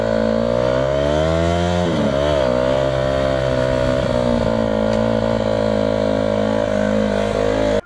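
A dirt bike engine buzzes loudly up close in a steady high-pitched drone, rising and falling as the throttle is blipped, with no talking.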